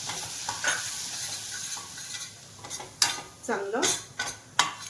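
Spoon scraping and stirring flour into melted butter in a pan, with soft sizzling underneath and sharp metallic clinks against the pan, fairly close; a voice speaks briefly.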